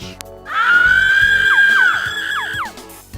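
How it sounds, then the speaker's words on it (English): A long, high-pitched scream from a character in the 1995 adventure game Escape from F5, a sustained wavering shriek with sliding inflections lasting about two seconds, loud and close, over faint background game sounds. "Now that's what I call a scream."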